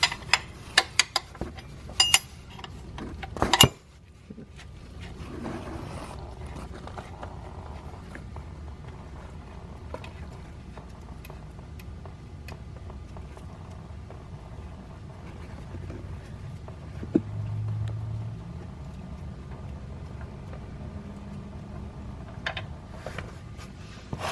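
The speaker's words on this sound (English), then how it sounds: "And then we got to loosen this bolt right here at the back of the oil pan." A 19 mm oil pan drain bolt is loosened on a VW 1.4L four-cylinder engine, with a burst of sharp metallic ratchet clicks and clanks, then a quieter stretch of faint handling noises.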